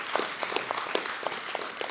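Audience at a campaign meeting applauds, a dense run of clapping with individual sharp hand claps standing out, moderately loud and sustained throughout.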